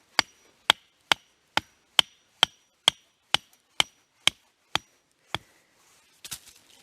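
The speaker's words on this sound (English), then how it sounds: "then we'll take the hammer, pound it in" Hammer pounding a straight wooden stake into the ground to anchor a fence: twelve sharp, evenly spaced strikes ring out loud and close, followed by a brief rustle.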